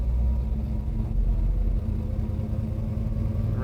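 A 1968 Chevrolet Chevelle SS rumbles and revs as it rounds a corner, a deep steady low-pitched engine drone that stays loud and close throughout.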